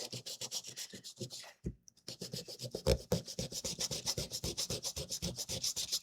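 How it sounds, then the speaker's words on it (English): The edges of a wooden block are scuffed with quick, rhythmic sanding strokes. The rasping passes come close and even, with one short pause partway through. "So just scuffing up the edges a little bit."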